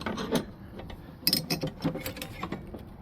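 A ratchet wrench clicks in quick bursts while tightening a brake part on a Jeep Cherokee with brake trouble, with close, rapid pawl ticks and metallic rattles.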